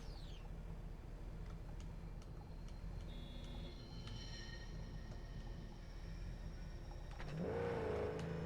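A vehicle engine in the video game Cyberpunk 2077 idles as a steady low rumble with faint electronic tones, then revs up near the end with a rising whine, no talking.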